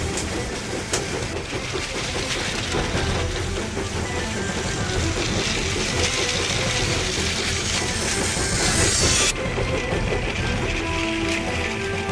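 A steam engine running downhill in the Trainz railway simulator game, with a steady loud rumble, rhythmic wheel clatter and hiss that continue throughout, without talk.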